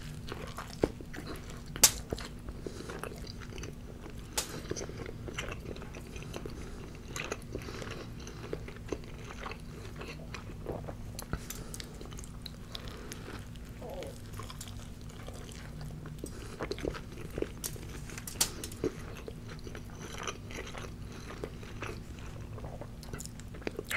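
Someone bites and chews a Subway Pit Smoked Brisket sub close to the mic, with soft, scattered crunches and wet mouth sounds at irregular intervals over a quiet low hum.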